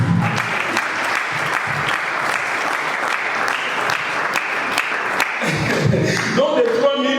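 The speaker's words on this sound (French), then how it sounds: "Est-ce qu'on peut acclamer le Seigneur?" A church congregation applauds the Lord during a sermon, steady dense clapping and cheering filling the room for several seconds, with a few sharper claps and a brief voice near the end.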